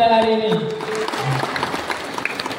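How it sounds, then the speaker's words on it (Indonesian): An audience claps for the MC at a parenting seminar in a school hall, a short round of applause that follows a sustained musical tone and fades under light talk. "beri tepuk tangan kepada MC kita pada hari ini"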